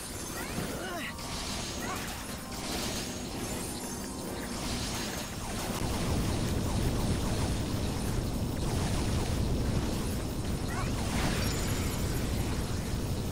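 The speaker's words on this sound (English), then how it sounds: "That explosion was a little bit too big to dodge." An explosion in the video game Mighty No. 9, on an oil platform stage, gives a dense, sustained roar of blast noise and crashing debris that swells louder partway through and fills the whole stretch.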